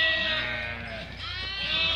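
Sheep on a Turkish farm bleat in a continuous, wavering chorus close by. Several animals overlap with drawn-out cries over low background rumble.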